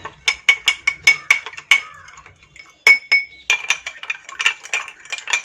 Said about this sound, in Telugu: దీంట్లో షుగర్ వేస్తున్నాను. బాగా కలుపుకుందామండి.